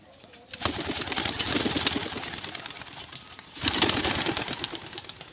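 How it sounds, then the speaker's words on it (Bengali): Pigeons leave a loft one after another, making two loud bursts of flapping wings close by over a quieter background. "এই একের পর এক পায়রা বেরিয়ে যাচ্ছে"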